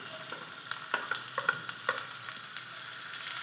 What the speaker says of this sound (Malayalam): ഇത് ഞാൻ ഒരു സവാള ചെറുതായി അരിഞ്ഞത് ഇതിലേക്ക് ഇടുകയാണ്